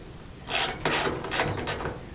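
A ratchet starts rusty T40 Torx bolts on a Jeep YJ, giving four quick bursts of clicking strokes with short pauses, close and fairly loud.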